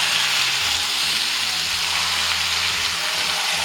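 Onions tempering in hot oil for a Tamil mushroom and soya chunk biryani give a steady, close, crackling sizzle that holds evenly throughout with no voices.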